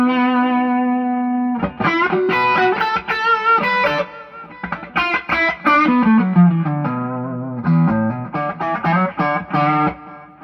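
Electric guitar through a Seymour Duncan 59 neck humbucker with treble bleed, warm tone and effects, a sustained chord ringing out, then picked notes and chords in uneven phrases, played alone.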